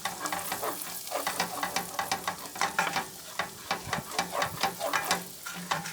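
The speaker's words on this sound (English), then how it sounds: "Now we're gonna go ahead and add our minced garlic into here. Let that simmer for a little bit." Minced garlic cooks in melted butter in a pan, producing a close, low sizzle broken by rhythmic scraping and stirring strokes repeating about twice a second, with no talking.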